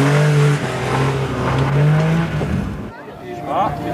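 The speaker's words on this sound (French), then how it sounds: "Maintenant, vous avez une belle Porsche RS 73." A Porsche RS 73 race car at a 2001 slalom in Geneva roars close by with revving engine and tire squeal, while a commentator speaks over it.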